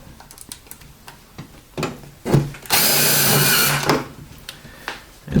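A power drill drives screws to join sections of solar tube pipe, with short bursts of whirring followed by one longer sustained run of the motor, close and fairly loud, then a few more brief clicks and taps.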